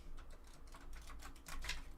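A deck of playing cards being shuffled at a tarot-style reading, giving a soft riffling flutter of fast, close, moderately quiet clicks that run steadily for a couple of seconds, with no talk over it.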